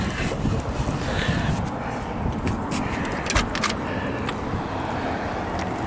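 A 1956 Chevrolet Bel Air on a test drive around Laguna Beach, California. Steady engine and road rumble mix with wind buffeting from inside the cabin, along with a few light clicks and rattles.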